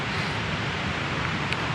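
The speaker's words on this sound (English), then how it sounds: "We're by another waterfall, which is, and you can probably hear it in the background." Steady broadband rush of a waterfall running in the background at a mountain campsite in British Columbia, continuous and even with no breaks or other distinct sounds.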